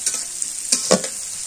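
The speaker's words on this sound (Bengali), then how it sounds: "পেঁয়াজ অত ভাজা যাবো না," Onions fry in a pan for a thin mutton curry with ash gourd, a loud, steady hiss of sizzling close by, broken by a few scraping stirs.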